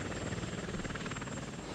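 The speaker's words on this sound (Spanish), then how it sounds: "El motor turboeje permitió a los diseñadores desarrollar nuevos helicópteros militares, como el Boeing CH-47 Chinook" A Boeing CH-47 Chinook twin-rotor military helicopter thumps in a rapid, steady rotor beat over a continuous engine drone, loud and close.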